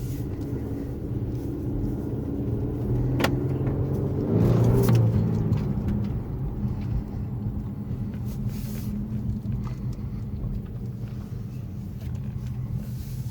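A 2014 Infiniti Q50 engine rumbles steadily from inside the cabin, with a brief swell around the middle, then a smooth, continuous road drone.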